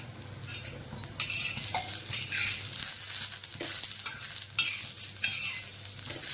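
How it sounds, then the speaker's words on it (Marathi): Mutton with plenty of garlic and coriander sautéed in a pan, a steady sizzle broken by repeated scraping stirs of a spoon against the metal, close and continuous. "याला चांगलं परतून घ्यायचं आहे."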